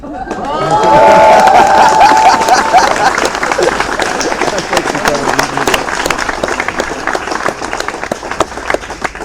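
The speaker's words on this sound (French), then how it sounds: "la chanson elle est finie donc t'es censé applaudir" A theatre audience at a live comedy show breaks into sustained applause after a song, with some cheers and shouts, clapping continuing steadily and thinning slightly toward the end.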